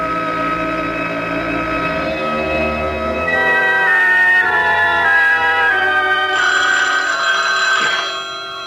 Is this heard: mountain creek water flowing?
no